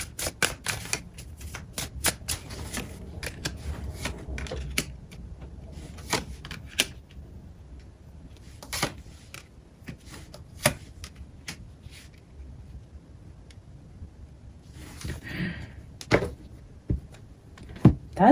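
Tarot cards shuffle in repeated sharp riffling bursts and soft clicks, close and fairly quiet, in an irregular rhythm with short pauses and no voices.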